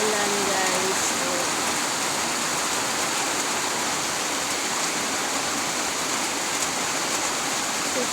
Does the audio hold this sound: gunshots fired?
no